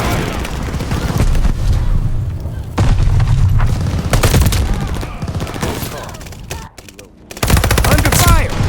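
Heavy gunfire and explosive booms from a battle in Mass Effect Legendary Edition, dense and continuous with a brief drop near the end before the barrage resumes, while a voice speaks faintly beneath it.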